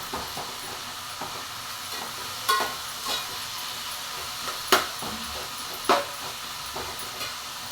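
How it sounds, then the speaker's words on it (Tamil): Onions and tomatoes sauté in a pan for a spicy potato masala, a steady low sizzle with a few sharp clinks of stirring scattered through, close and without talk. "இந்த ஸ்டேஜில் வெங்காயம் தக்காளி ரெண்டுமே ஓரளவுக்கு நல்லா வதங்கிருச்சு."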